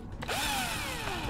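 A drill weapon in the zombie roguelike game Deadly Days: Roadtrip spins up with a loud mechanical whine that rises sharply and then slides gradually downward in pitch, running steadily over a rough grinding hum.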